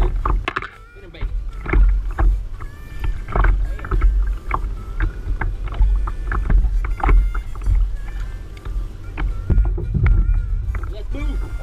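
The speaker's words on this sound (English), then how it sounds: "we are going to paddle over there so that we can drift back this way" A kayak is paddled on a lake during winter bass fishing in Central Florida, with repeated close paddle strokes dipping and splashing in a steady rhythm, plus a little wind noise in the background.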